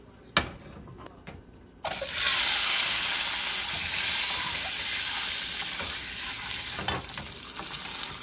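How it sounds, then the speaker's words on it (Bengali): Egg and potato fry in hot oil with salt and turmeric, a bright, loud sizzle bursting in after a few faint clatters and then hissing steadily with occasional stirring scrapes. "ডিম আলুটা একটু ভেজে নেব নুন আর হলুদ দিয়ে।"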